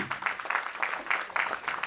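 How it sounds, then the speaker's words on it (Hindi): Applause from the audience at a blanket distribution ceremony, a steady wash of many hands clapping in uneven surges for about two seconds, with a voice faintly mixed in. "तालियां रुकनी नहीं चाहिए।"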